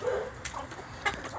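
Miniature hens and a young rooster clucking nearby in a backyard poultry setting, with a few short, soft clucks and calls spaced across a brief moment.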